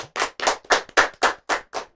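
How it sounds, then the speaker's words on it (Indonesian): Studio audience at a school podcast clapping in about seven distinct rhythmic bursts, fairly close and loud, with no talking. "Tepuk tangan dong."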